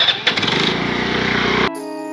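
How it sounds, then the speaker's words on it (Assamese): A motorcycle engine revs hard and roars loudly as it is ridden away, with sputtering bursts at the start, then cuts off abruptly into a sustained musical tone. "এনেদৰে কৈ অলপো নৰয় বাইকখন জোৰকৈ লৈ ৰাহুল গুচি যায়"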